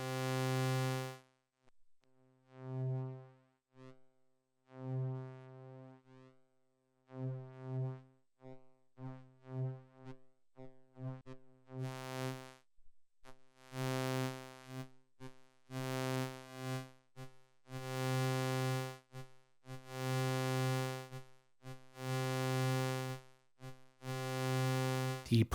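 A buzzy synthesizer morph-wave tone plays in repeated notes and pulses, rich in harmonics, brightening and growing more distorted toward the end, with no voices.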